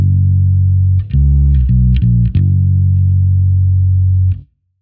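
Bass guitar through an effects unit with distortion plays a riff, a few sustained low notes with quick changes in the middle, loud and alone, ending abruptly.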